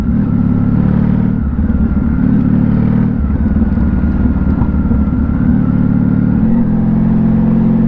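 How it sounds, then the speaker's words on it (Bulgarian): A motorcycle being ridden, its mid-pitched engine droning steadily up close with several shifts in revs as the throttle changes, alone without talk. "Много приятен мотор за каране."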